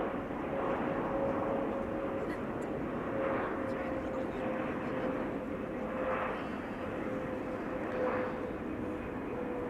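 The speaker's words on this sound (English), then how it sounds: "Air China Cargo flight 1033 arriving from Shanghai, going to center." An Air China Cargo jet arriving from Shanghai lands at Amsterdam Schiphol, producing a steady, fairly distant engine roar that holds evenly across the whole stretch with a soft whooshing wash.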